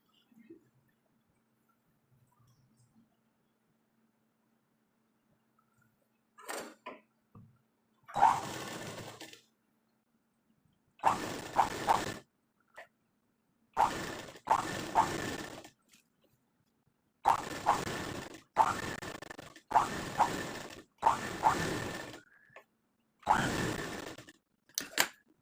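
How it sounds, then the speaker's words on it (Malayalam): A sewing machine stitches a churidar lining in a series of short bursts, each lasting about one to two seconds with brief pauses between, starting after a quiet opening and sounding close and fairly loud. "അപ്പോൾ നമുക്ക് സ്റ്റിച്ച് ചെയ്യാം കേട്ടോ."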